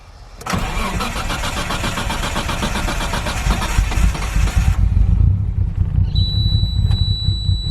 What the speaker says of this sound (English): It's never liked to cold start this car.